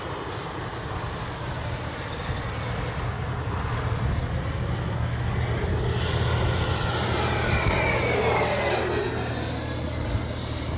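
An E-flite Viper 90mm RC jet with a ducted fan flies at full speed, a steady broad rushing whine that swells slightly as it passes and carries on for about eleven seconds with no voices.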